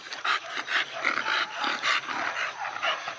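A group of American Bully dogs outdoors on grass gives low growls mixed with short yips and whimpering barks, several rapid bursts close by, the noise rising and falling in quick pulses.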